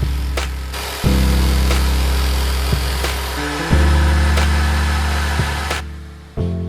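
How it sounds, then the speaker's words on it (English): A disc grinder runs steadily against a knife blade in a Puukko knife build, its loud motor drone dipping and surging several times as the tool bears down on the workpiece, with no talk. "Then I use my disc grinder to clean up the blade."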